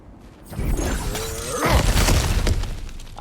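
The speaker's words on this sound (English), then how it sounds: "back to smashing through things for fun and profit." An object smashes in God of War Ragnarok with a loud shattering crash and crumbling debris, followed by heavy thuds and rumbling breakage, close and sustained.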